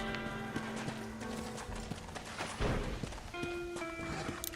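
A horse's hooves clip-clopping in Red Dead Redemption, an irregular run of hoofbeats over game ambience with a brief thud partway through.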